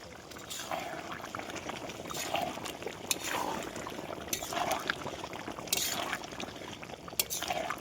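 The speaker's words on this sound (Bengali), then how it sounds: "এই যে এই তেলটা এখন দিয়ে দেবো।" Oil goes into a pot of half-cooked meat, with gentle pouring and liquid bubbling and trickling noises plus occasional clinks, quiet and close, with some low background noise.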